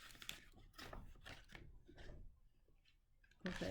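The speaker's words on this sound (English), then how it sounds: "turning the page." A children's picture-book page is turned during a read-aloud story time, with quiet papery rustles and crinkles followed by a louder brush at the end.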